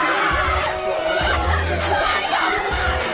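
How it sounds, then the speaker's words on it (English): A darts tournament crowd murmurs and chatters loudly, with scattered laughter and some raised voices in a dense, continuous hubbub. "But the crowd are not liking it."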